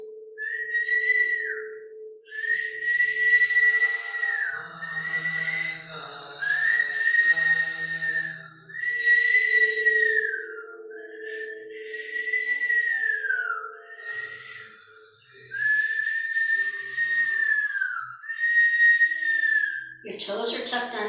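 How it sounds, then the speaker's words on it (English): Whistling exhalations during a yoga class's whistle breath exercise, a long series of sustained, slightly wavering whistled tones with short pauses, close and clear. "you're just going to do whistle breath here"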